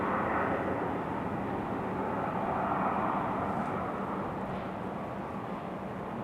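Southwest Airlines Boeing 737 MAX 8 at Raleigh-Durham airport, a steady broadband jet engine roar at moderate distance, constant throughout with no talking.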